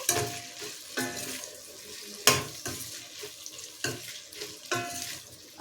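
Potatoes go into a pan of fried onions and sizzle softly while being stirred, with scraping bursts roughly once a second over a quiet, steady frying hiss; no one speaks.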